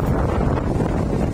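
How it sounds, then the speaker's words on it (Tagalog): Strong typhoon wind roars at a beach on Manila Bay near Dolomite Beach, blasting the microphone with a steady, loud rumble and no voices. "At lakas na ng hangin, mga kabayan."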